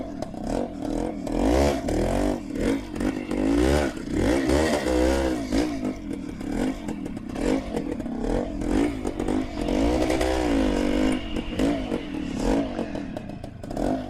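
A 1974 Suzuki TS250 two-stroke motorcycle revs and rides by, its buzzing, rising-and-falling engine pitch loud and close, then easing off and building again over about fourteen seconds.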